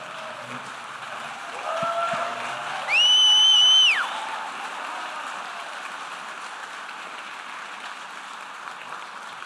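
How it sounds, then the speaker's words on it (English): Audience applause at a gala program, a broad steady wash of clapping from a crowd that holds evenly throughout, with a brief bright tonal chirp partway through. "If you could stand up, we would love to give you a round of applause."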